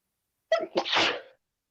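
A single sharp sneeze bursts out close up, a quick intake followed by a forceful explosive release, then silence.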